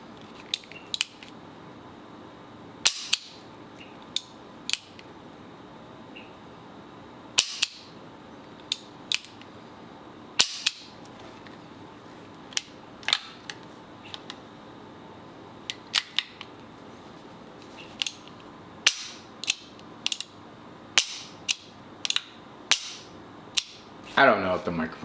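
A blued Colt Anaconda .44 Magnum revolver with a six-inch barrel is worked by hand, giving sharp, isolated mechanical clicks and snaps at irregular intervals over a quiet room, close to the microphone.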